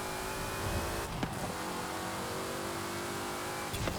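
Stock race car in Forza Horizon 5 holding a steady engine drone at moderate level, with brief tire or gear transients near one second and again near the end, no talk.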